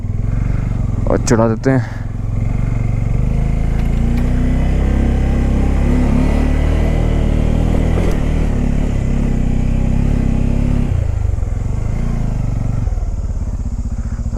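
A Bajaj Pulsar N250 motorcycle climbs uphill in first gear on a Delhi-to-Lansdowne road trip. Its engine hums loud and steady, with a brief clatter near the start, while the rider talks over it.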